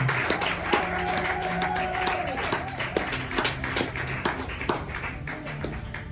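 Church congregation applauding and clapping in acclaim of Jesus during a French-language sermon, a steady crowd of claps with some rhythmic tapping, with organ or keyboard tones sustained underneath.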